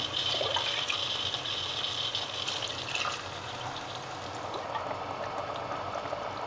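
Water pours steadily into a pot of basmati rice for biryani with a bubbling splash, loud at first and then settling into a softer, continuous trickle.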